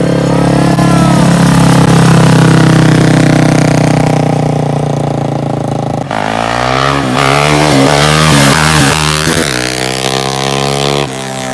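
A quad engine revs hard while riding in snow, loud and close and sustained throughout. The pitch holds high, then drops and wavers through gear changes and throttle swells, with no talking.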